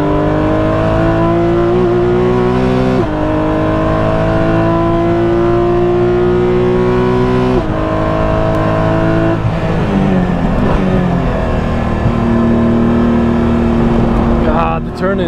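A Porsche 992 GT3 Cup race car on track, its loud, close engine holding a high sustained note, with several gear shifts and revs that climb and drop.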